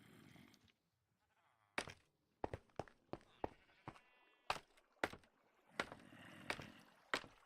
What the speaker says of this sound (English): Check out my sheep farm.